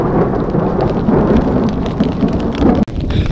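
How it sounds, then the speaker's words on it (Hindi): Steady rain pours down close by on an alpine lake trek in the mountains, a dense constant wash with a deep rumbling low end, broken by one brief dip near the end. "बारिश हो रही है"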